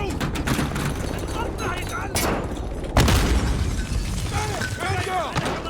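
A grenade goes off in a Call of Duty Modern Warfare firefight, a sharp, loud blast standing out among gunfire, rattling debris and shouted in-game voices.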